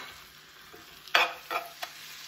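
Onion and serrano chili fry in a pan with browned meat, giving a faint, quiet sizzle broken by a few sharp stirring scrapes near the end.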